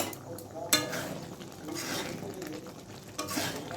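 Dried fenugreek leaves (kasuri methi) stirred into a simmering tarka curry: a steady low sizzle with scraping spoon strokes against the pan and a sharp clack early on, no voices.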